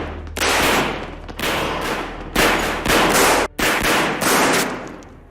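Bursts of heavy gunfire in a World War II film scene: several loud, close volleys of rapid shots separated by brief pauses, with no talking.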